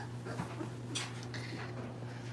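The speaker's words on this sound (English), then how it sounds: "Very, very dark colored puppy." A very dark-coloured puppy whimpers softly and pans in a few faint, close breaths and whines over a low steady hum, with no talking.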